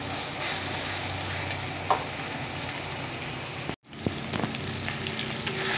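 Ground onion, garlic and turmeric sizzle steadily in a pan while being stirred, a close continuous frying hiss with occasional scraping clicks and a brief pause partway through.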